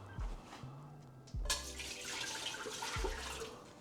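Water is tipped out of an ice bath in short splashing pours, with a few sloshes and gurgles over roughly four seconds. The sound is close and fairly quiet, and there is no talking.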